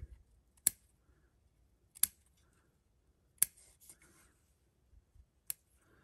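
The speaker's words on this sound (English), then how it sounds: "I got me some old bonsai scissors here" Four sharp, isolated snips of small bonsai scissors trimming an oil lamp wick, spaced a second or two apart, close and quiet against near silence.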